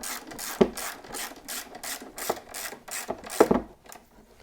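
A ratchet wrench finishing off bolts on a KTM 9X0 camel tank bracket, with a steady series of rapid clicking strokes and a few sharper knocks, close up with no talk.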